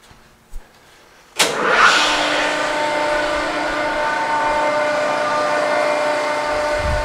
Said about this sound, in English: we'll go ahead and cycle the machine for you, let you see how everything works